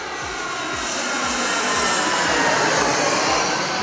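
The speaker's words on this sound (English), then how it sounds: "I'm gonna hear an airplane that sounds just like this" An airplane flies overhead in a Loudoun County, Northern Virginia neighborhood, a loud, steady broadband engine roar that swells slightly as it passes, with no voices.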